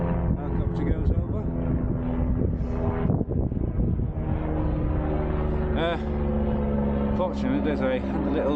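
A helicopter's engine drones steadily overhead on the fell High Raise, a loud continuous rumble with someone talking briefly under it.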